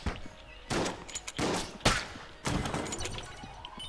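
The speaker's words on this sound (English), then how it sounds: "That grenade got launched towards me" Explosive bursts and rapid gunfire from a grenade launched in the Enter the Gungeon video game, several sharp blasts in quick succession with crackling debris between them.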